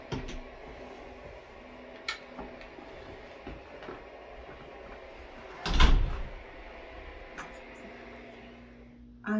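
Heavy church doors swing open from a latch mechanism at the top and bottom, giving one loud thud and rattle midway through, with a quieter knock earlier, over a steady low room hum.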